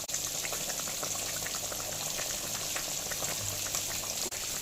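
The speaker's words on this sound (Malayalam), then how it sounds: "ഇത് നമ്മൾ കുറച്ച് വെളിച്ചെണ്ണ ഒഴിക്കുന്നുണ്ട്." Coconut oil goes into a bubbling snakehead fish chili curry, giving a steady, even hiss and a close simmering crackle throughout, with no voices.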